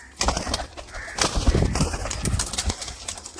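Sialkoti flying pigeons heard close by, with soft cooing and bird calls mixed with rustling, wing flaps and handling noises in a busy loft setting.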